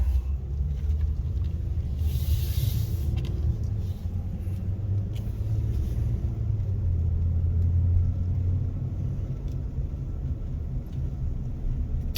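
Engine of a 2017 Ram 1500 pickup truck with an oil pressure fault (codes P06DE and P06DD) idling as it warms up, a steady low rumble close by with slight fluctuations and no talking.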